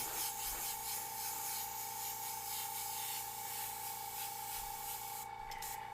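An airbrush sprays candy black paint in a steady, continuous hiss, close and fairly loud, with a constant tonal hum from the compressor underneath and no talking.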